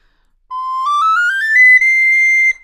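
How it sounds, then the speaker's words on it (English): A very high, pure recorder tone climbs stepwise through several notes, then holds a steady high pitch before stopping cleanly. "First up is the garklein."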